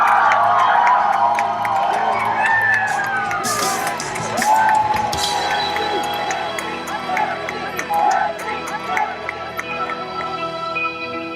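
Audience applause and cheering fill a hall, a dense wash of clapping with scattered whoops and shouts that gradually thins out, while a voice speaks faintly over it.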